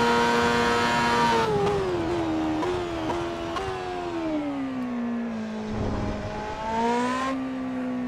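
Ferrari SF15-T Formula 1 car engine in Assetto Corsa, a loud, close, steady high-revving whine that rises and falls with repeated quick gear shifts and throttle lifts, running continuously with no talk.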